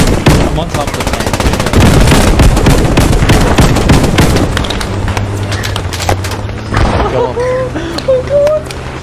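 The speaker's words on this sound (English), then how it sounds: "Alright, I'm throwing the grenade in." A grenade goes off in a tank hatch during a Post Scriptum battle, lost in a loud, dense stretch of rapid gunfire and bangs that thins out later.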